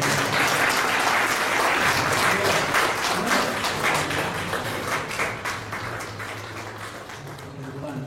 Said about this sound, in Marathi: टाळ्या वाजवून आपण